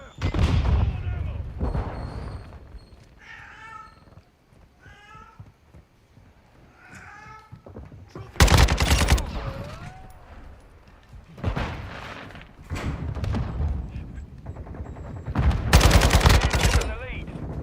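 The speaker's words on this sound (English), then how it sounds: "Taking enemy fire!" Enemy gunfire in Call of Duty Modern Warfare II, loud bursts of automatic rifle fire arriving in several clusters, separated by quieter stretches with game voice lines and talk.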